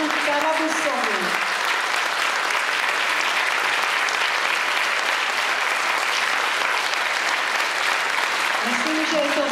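Sustained audience applause fills the whole stretch at an opening ceremony of an international tourist gathering in Vsetín, dense, steady and loud, with a few voices faintly above it at the start and end.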